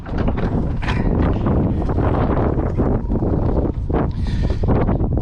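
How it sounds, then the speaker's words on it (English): Steady wind gusting outdoors at a boat transom, roaring broadband and continuous across the whole stretch, close and loud against the microphone with no voices. "Hope the wind's not too bad."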